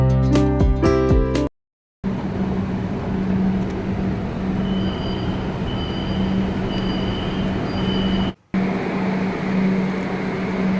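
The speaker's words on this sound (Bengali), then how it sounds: "এই যে আমাদের মেট্রো চলে এসেছে, আমরা এখন এই মেট্রো করে নিউ মার্কেটে যাব" Metro train pulling into a station in Kolkata, a loud steady rumble with a sustained hum and a brief whine, broken by two short gaps, heard close by on the platform.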